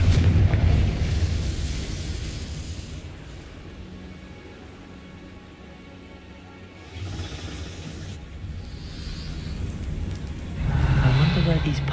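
Confringo explosion spell in a Harry Potter-style fantasy video game, a few booming blasts that swell and fade at the start and end, with a voice talking over the rumbling in between.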